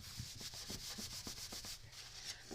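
Paper being rubbed flat along a fold, a faint, close, dry scraping in quick repeated strokes that come in a steady back-and-forth rhythm.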